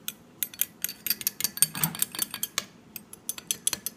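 Spoon clinking and scraping against a coffee cup while stirring Kopi Luwak civet coffee, a quick irregular series of close, bright metallic taps with no talking.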